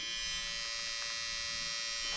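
A small cooling fan runs inside an ARRMA 4S RC car, giving a steady, close electric whir with a constant hum and no pauses, alone without talk.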